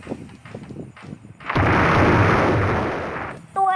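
An explosion detonated in the Roblox video game, a sudden loud blast that cuts in after quieter game sounds and sustains as a broad roaring rumble for about two seconds before a sharp new sound at the end.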